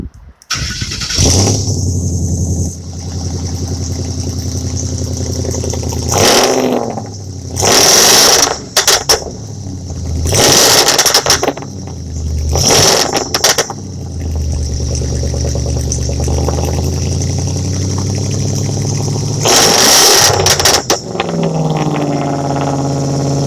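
A 2007 Ford F150 pickup truck idles with a deep, rumbling exhaust tone, broken by several loud revving bursts that rise and fall before settling back to idle.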